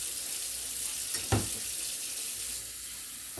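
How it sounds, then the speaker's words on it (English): A kitchen tap runs continuously with a steady, loud hiss as water pours out, with one brief splash partway through. "Water runs for a minute."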